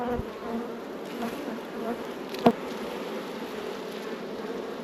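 Honeybees buzz steadily around an open hive during a beekeeping frame inspection, a soft close hum with a brief knock partway through and no talking.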